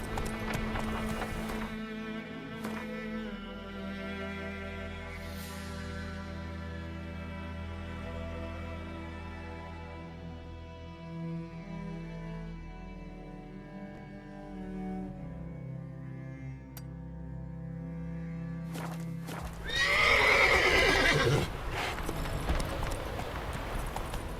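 Roach, the horse in The Witcher 3, gallops with rhythmic clip-clop hoofbeats under a layer of game music, and a louder burst of rushing noise comes near the end; no clear neigh stands out.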